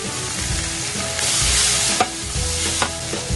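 Onions stir-fry in a pan with bacon and garlic for a Napolitan pasta, giving a close, continuous sizzle broken by a few sharp scrapes and taps of the utensil.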